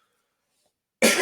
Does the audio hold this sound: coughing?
yes